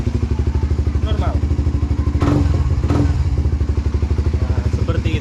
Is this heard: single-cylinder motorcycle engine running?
yes